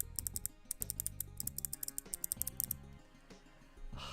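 Mechanical keyboard key switches with a light click, pressed in quick irregular bursts of sharp, close clicks and taps, like typing, with brief pauses between runs.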